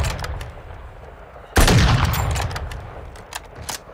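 Gunfire in Call of Duty Warzone: a sudden loud close blast with a booming tail, among scattered fainter distant shots before and after.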